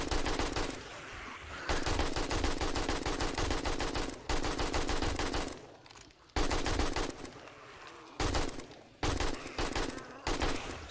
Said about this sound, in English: Don't want to shoot in bursts, everybody, so you're not wasting bullets.